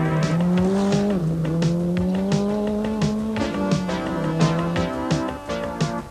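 A 4x4 Ford Sierra rally car with drivetrain trouble slides along a forest stage in the 1988 Tokoroa rally. The engine note holds steady, then rises and falls with gear changes, and gravel crackles under the tyres.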